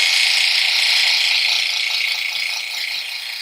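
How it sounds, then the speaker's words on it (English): A vacuum pump runs on a 1939 GE Flat Top refrigerator under repair, a loud, steady, buzzing mechanical rattle heard close up that holds constant for several seconds and then eases slightly in level. "So I got the vacuum pump running down here."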